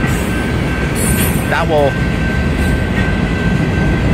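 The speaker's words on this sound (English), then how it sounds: "It looks like there's a long streak of hopper cars" A Union Pacific freight train with a long string of hopper cars rolls past at a Mesa grade crossing. A loud, steady rumble and roar fills the scene, a brief wheel squeal cuts through, and a person speaks briefly over it.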